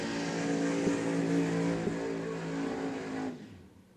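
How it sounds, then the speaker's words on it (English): A 1967 Mustang Fastback race car at a drag racing event holds a steady, loud engine roar with a tonal drone for a few seconds, then cuts off abruptly into quiet. "Beautiful 1967 Mustang Fastback"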